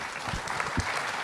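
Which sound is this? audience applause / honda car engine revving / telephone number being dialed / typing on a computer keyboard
audience applause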